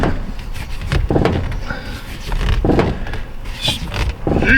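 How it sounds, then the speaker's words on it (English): Creaky steering joints on a 2017 Honda Civic with ABS/VSA faults, heard as repeated short creaks and knocks while the wheel is turned by hand, close and uneven against a workshop background. "Jeez, ball drive's pretty creaky."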